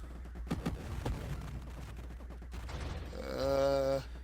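Rapid bursts of gunfire in the space shooter game Nova Drift, a dense crackling volley under background game sound, ending in a loud sustained tonal blast near the end.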